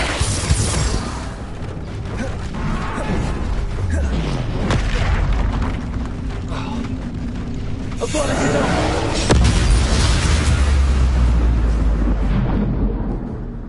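Bombarda and Confringo spell explosions in a Hogwarts video game: repeated deep booming blasts and crashing bursts with rumbling debris, loud and dense, mixed with game sound effects.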